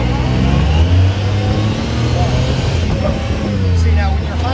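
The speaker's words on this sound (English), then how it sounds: "I'm just going to put my foot on the gas. And as it revs up, there we go, it starts to drive." A 2016 Yamaha YXZ1000R side-by-side's engine revs and drones steadily as it pulls away in first gear, loud and close, with a voice talking over it.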